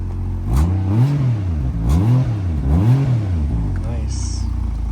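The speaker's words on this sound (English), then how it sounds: "Let me get a couple revs, Max." A Toyota Chaser JZX100 turbo engine is revved three times in quick succession, each rise and fall of the engine note loud and close, then it settles back to idle.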